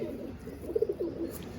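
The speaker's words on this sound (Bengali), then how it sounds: "এই একটা বুড়া পায়রা আছে নাকি?" Madrasi pigeons kept for sale coo close by, a short run of soft, low, throaty coos under faint background sound.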